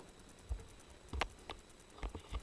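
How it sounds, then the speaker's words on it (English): Rain drips inside a rock shelter on Flinders Island. Several distinct drops land at irregular intervals over a steady, soft background hiss. "Catch the rain dripping down."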